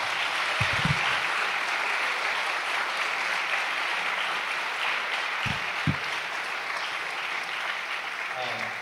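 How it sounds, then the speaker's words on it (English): A room full of people applauding steadily, a dense wash of clapping that carries on at an even level throughout. "could you guys join me in giving our presenters a round of applause?"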